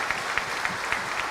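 Applause from a church congregation during a Catholic homily, a steady wash of many hands clapping at moderate distance, with no voices over it.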